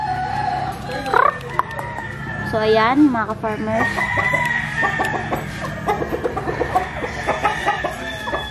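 A purebred Jolojano (Basilan) free-range native chicken hen clucks repeatedly near the microphone, joined by a crowing rooster and other fowl in a farm setting, while someone talks over them.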